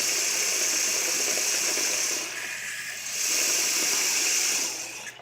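A steady rush of running water fills the air, easing briefly partway through before surging again, loud and close with no voices.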